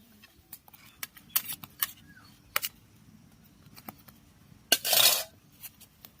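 Spoon clinking and scraping against a pan while ghatkol leaf paste is stirred: sparse, quiet taps and clicks, with one louder scrape near the end.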